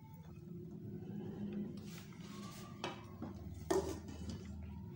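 Matar pulao rice served from a pot into a dish, soft scraping and light clinks of a spoon against metal, with a few sharper knocks near the end in a quiet kitchen.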